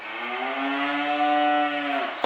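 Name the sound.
cows mooing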